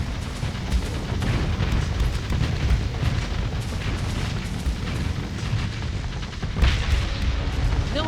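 A ship explodes in the space game StarSector as dense booming blasts and rumbling bursts roll continuously, with a sharper burst near the end; no voices.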